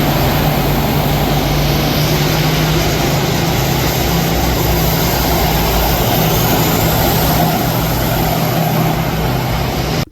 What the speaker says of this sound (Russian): По Тверской улице грохочут танки Т-80 БВМ.